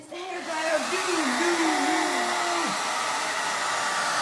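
A hair dryer used on Wise Owl Chalk Synthesis Paint roars steadily and loudly throughout, with a voice sliding up and down over the first few seconds.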